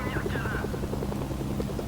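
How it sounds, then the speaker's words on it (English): Helicopter in the video game Mercenaries, a steady rapid rotor chop with engine whine, held at constant loudness throughout, close and continuous, with a voice speaking over it. "My helicopter was still there when I came back,"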